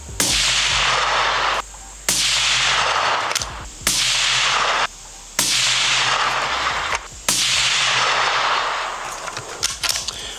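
A 6 ARC bolt action rifle with a 20-inch barrel fires Hornady Black 105 factory rounds outdoors, heard as five loud, close, sharp gunshots about two seconds apart, each with a ringing decay, with no talking.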